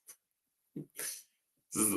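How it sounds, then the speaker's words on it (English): A single quick sneeze bursts out after a brief breathy sound, with short vocal noises around it in an otherwise quiet room. "Sneeze."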